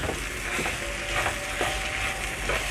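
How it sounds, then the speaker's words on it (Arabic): Rice being stirred and fried in a pan with onion, carrot and spices for Egyptian yellow rice, a steady close sizzle with rhythmic scraping strokes of the spoon, no voices. "وهنبدأ نقلب الرز يتغلف بالتوابل والبهارات اللي احنا حطيناها مع البصل والجزر."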